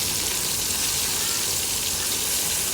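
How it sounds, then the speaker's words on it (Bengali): Prawns coated with turmeric, chili and salt fry in a little oil with a steady, dense sizzle and crackle that fills the whole stretch at an even level, with no voices. "হলুদ মরিচ লবণ দিয়ে মেখে রাখা চিংড়িগুলো একটু তেলে ভেজে নেব"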